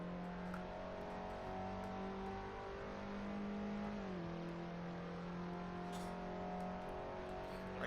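An Abarth race car in Assetto Corsa, racing at Brands Hatch, drones at a steady engine pitch that dips sharply partway through as the gear changes, then carries on evenly at moderate level.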